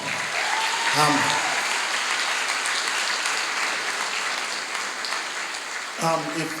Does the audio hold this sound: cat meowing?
no